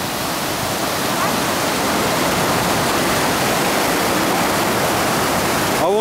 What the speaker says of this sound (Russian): Мощный поток воды.